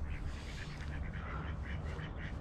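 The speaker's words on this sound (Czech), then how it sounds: "Hele, kačeny." Ducks quack softly beside a fishing pond during float fishing for carp and tench, several short nasal calls in an uneven run, faint and a little distant over quiet outdoor background.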